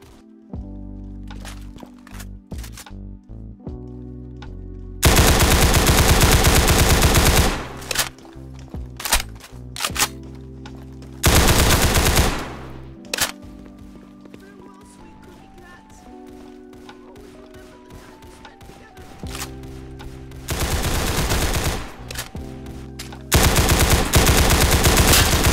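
Gunfire in the Roblox game Counter Blox, with loud bursts of automatic fire and rapid single shots recurring throughout, separated by quieter stretches of footsteps and in-game sounds.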